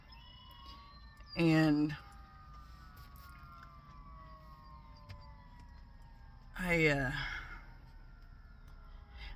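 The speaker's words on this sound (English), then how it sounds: "there's some chaos going on with these sirens around here" Emergency vehicle sirens wail outside in two separate swells, each a brief rising and falling burst over a quiet background, with a person speaking softly in between.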